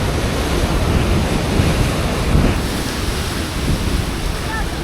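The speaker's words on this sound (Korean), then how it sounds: "파도 엄청 세네 오늘" Strong ocean surf pounds a beach in Bali, a dense, continuous roar of crashing waves with wind buffeting the microphone, steady and loud with a slight swell midway.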